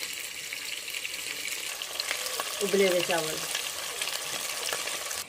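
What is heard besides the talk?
sour eggplant frying and being stirred in a pan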